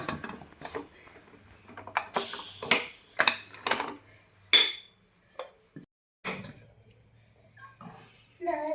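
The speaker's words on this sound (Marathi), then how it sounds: "बघा आता लावून घेते कुकर." A pressure cooker lid is fitted and closed in a home kitchen, making scattered metallic clicks, clanks and scraping mechanism sounds at close range, with pauses between them.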